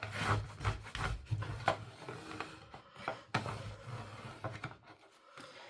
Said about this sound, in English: let's go ahead and scrape that down really well